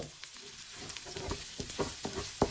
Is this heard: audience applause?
no